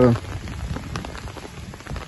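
Heavy rain pours onto wheat fields with standing water, a dense continuous patter of drops over a brief moment after a short voice at the start.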